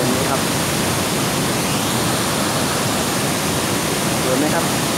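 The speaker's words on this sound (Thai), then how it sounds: "ความงดงามของน้ำตกแก่งโสภาในวันนี้ครับ" Kaeng Sopha waterfall, a dense, steady roar of falling water that fills the whole span without letup, close and loud.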